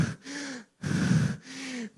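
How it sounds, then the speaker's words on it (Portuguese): Heavy panting breaths, three long loud gasps in and out with short pauses between them, close and breathy, with no talk. "minha respiração ofegante"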